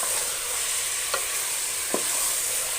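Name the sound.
chicken frying in a pan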